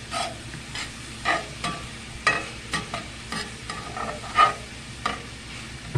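Vegetables and garlic fry in a pan, a soft steady sizzle broken by several scraping stirs at irregular intervals, close and moderately quiet with no talking.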